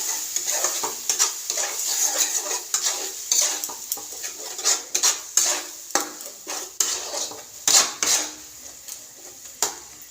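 Soybean stir-fried in a pan, with a constant bright sizzle and repeated close metal spatula scrapes and clanks against the pan at an uneven, busy rhythm.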